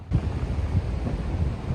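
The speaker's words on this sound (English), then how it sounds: "Pardon the wind" Steady low rumbling wind buffeting the microphone outdoors in early March, loud and continuous throughout, with no voices.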